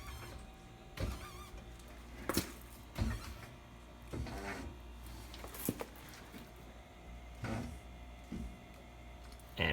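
Electric car lift lowering a 1996 Mustang GT onto its safety locks in a garage, a steady motor hum under several sharp metallic clunks and clicks spaced a second or two apart, fairly quiet and without speech.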